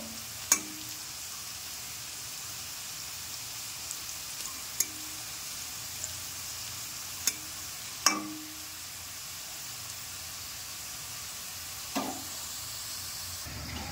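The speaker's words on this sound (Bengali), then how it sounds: "গ্যাসের ফ্লেমটা একটু বাড়িয়ে দিলাম, আলুগুলো একটু ভাজা ভাজা করে নেব" Potatoes fry in a pan over a raised gas flame, giving a faint, steady sizzle with a few sharp clinks or stirs scattered throughout.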